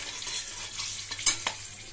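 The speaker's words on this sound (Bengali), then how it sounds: "এবার এটাকে ভালো করে নাড়িয়ে" Garlic pickle with nigella seeds stirred in a pan, a soft continuous scraping hiss with a few brief louder clicks of the spoon, close and steady with no talking.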